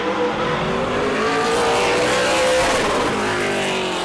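A Super Late Model race car sweeps around the Auburndale oval during qualifying, its loud engine note rising and shifting in pitch as it passes close by, with faint tire noise.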